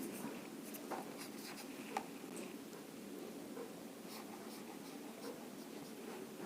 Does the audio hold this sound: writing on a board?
yes